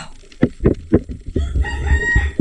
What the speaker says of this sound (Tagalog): Ops, manok.